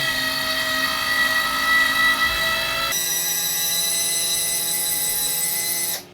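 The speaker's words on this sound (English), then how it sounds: "Closing the window now." A steady mechanical whine hums continuously, shifting pitch partway through, then cuts off at the end, like a motor driving a window shut.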